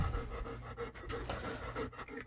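A wet dog that has come out of a pond pants close by in quick, steady breaths against a soft outdoor background.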